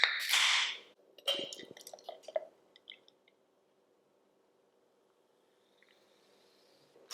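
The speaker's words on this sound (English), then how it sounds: "Right, let's get pouring." Beer is poured after a can or bottle opens with a sharp fizzing hiss, then liquid splashes and gurgles into a glass before fading to quiet with faint foam fizz.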